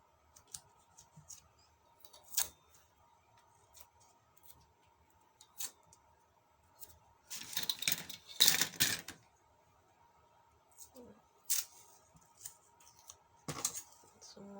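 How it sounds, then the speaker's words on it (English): Strips of strong tape pulled and pressed onto the sides of a folded paper gift box, giving scattered crackly tears and rustles, with a denser burst of tape noise midway and faint soft handling sounds between. "So we're going to tape these sides together."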